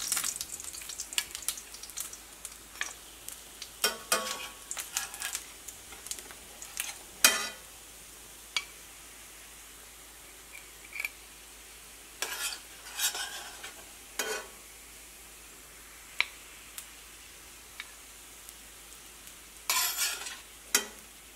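A crisp wheat flour snack, pressed from a sevanazhi mould, sizzles in hot oil. The soft frying hiss is broken by sharp bursts of stirring and utensils scraping the pan, with no talking.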